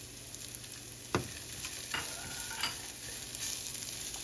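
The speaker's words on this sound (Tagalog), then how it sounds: "Hahaluan ko rin ng luya." Spicy pork and ginger stirred in a frying pan, a soft sizzle running throughout with a few sharper scrapes and clinks of the utensil against the pan.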